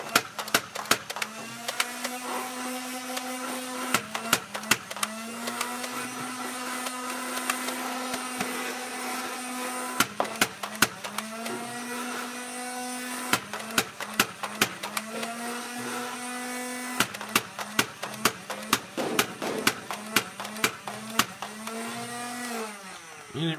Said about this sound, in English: now this year they also came out with a motorized option